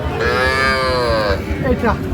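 A single loud, close moo from cattle at a livestock market in Madaripur, where small bulls and heifer calves are sold. The long, drawn-out call is followed by a shorter low grunt over a constant background murmur.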